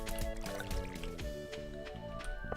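Crops being watered in Stardew Valley, splashing and pouring water sounds set against steady tonal background music, close and fairly loud, no talk.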